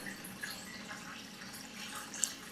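Automatic aquarium top-off filler topping up a tank, a faint, steady trickle of water running with a small drip-like splash near the end.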